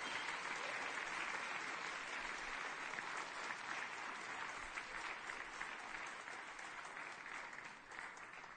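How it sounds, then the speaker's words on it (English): A church congregation gives Tacoma Academy a round of applause, a dense and continuous clapping that holds at an even level and then tapers slightly toward the end. "Can we have another round of applause for Tacoma Academy?"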